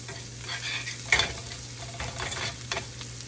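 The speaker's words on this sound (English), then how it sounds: "Now we're going to throw in a little bit of garlic and stir that around until it's fragrant" Garlic sautéing in a pan for a shrimp cannelloni Alfredo dish, soft sizzling under scraping strokes of a utensil being stirred, with one sharper clatter partway through, fairly quiet and close.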